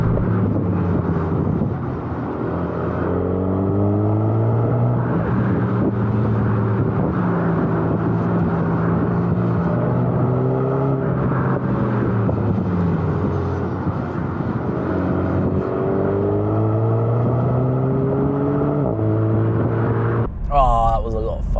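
A Renault Megane RS 300 being driven hard on a road gives a loud, continuous engine drone that climbs in pitch and drops with each gear change, repeating through several shifts.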